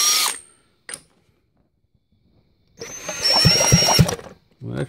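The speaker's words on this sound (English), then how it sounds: "Got my drill set up." Electric drill spinning up near the workbench during a 1985 Yamaha TRI-Z 250 Powervalve build, one loud sustained high whine of about a second and a half after a couple of short bursts, no talk.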